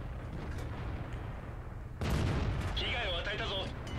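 A heavy tank cannon fires in World of Tanks during a heavy-tank battle: one sudden loud boom cuts through a low rumbling background, followed by ringing in-game tones.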